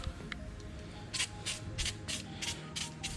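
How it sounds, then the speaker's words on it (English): Short hissing bursts from an aerosol can of anti-corrosion lubricant sprayed onto a Sea-Doo Spark watercraft engine, about seven quick sprays in a row, close by, over a low background hum. "I use XPS lubricant. It's an anti-corrosion, basically, lubricant, and I basically spray the motor"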